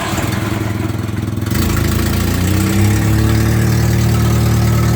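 A 1949 Jeep engine fires up from cold and settles into a loud, rough, steady idle, a low rumbling thrum close by, with no talk over it.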